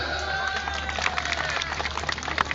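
A group of people in a spoken-English class clap their hands, with scattered, uneven claps over a steady murmur of voices that stays moderately loud throughout.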